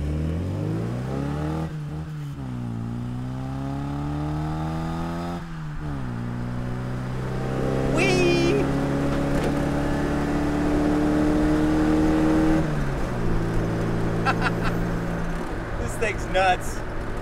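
A 1961 Austin Mini Cooper S with a 1275cc engine and Cooper S gearbox revs up through several gears, the engine note rising and dropping between shifts from inside the car, with a person talking over it.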